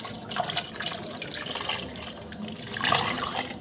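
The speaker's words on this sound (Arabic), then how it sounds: "انا كده هحط عليها الميه اهو" Water is poured over sweet potatoes in a baking tray, a soft uneven splashing and trickle up close that swells again near the end, no voices.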